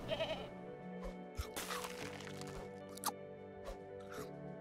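A cartoonish goat bleat from the Super Auto Pets video game, a short quavering cry at the start, followed by faint game sound effects and clicks.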